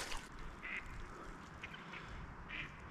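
Mallard ducks quack in short, separate calls at a beaver dam pond in Vermont, fairly close, with steady outdoor background noise and no talking.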